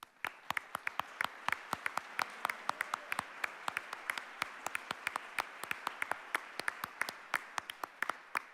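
Applause at a Young Life banquet for the standing committee, a small crowd's scattered claps ringing out in a brisk, uneven rhythm, fairly sparse and close, with no voices over it.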